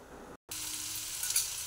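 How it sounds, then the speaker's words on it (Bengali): Broccoli and potato sizzle steadily in hot oil in a pan, a dense, close frying hiss that cuts out briefly near the start and then resumes, with no one talking. "দেখুন ভাজা ভাজা হয়ে গেছে এটা বকলি আর আলুটা।"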